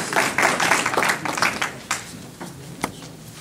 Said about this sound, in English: And you give him a round of applause as he comes to share this important information.